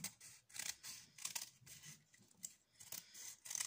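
Scissors cutting through thin cardboard for a Christmas decoration, a close run of rasping snips and crunchy cuts in uneven bursts, with no talking.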